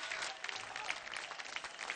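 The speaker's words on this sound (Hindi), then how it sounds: "जोरदार तालियां" Studio audience applause on a televised Indian dance competition stage, a steady dense wash of clapping held at moderate level throughout.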